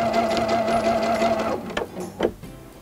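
A sewing machine stitching a straight line in free motion quilting guided by a ruler, a fast even close whir for about a second and a half, then stopping with a few soft knocks.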